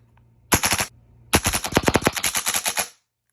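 A Glock 18C pistol with a conversion fired full-auto outdoors: a short burst of rapid shots, a brief pause, then a longer sustained burst, loud and close.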